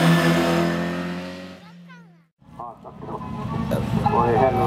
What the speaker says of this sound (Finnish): Kato, sieltä tulee auto.